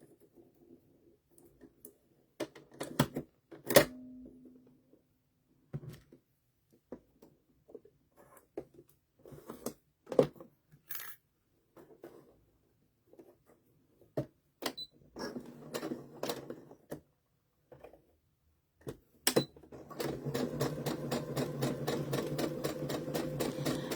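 A home sewing machine stitches in short, stop-start bursts with clicks and pauses in a quiet room, then runs in one longer continuous whirring stretch near the end. No one speaks.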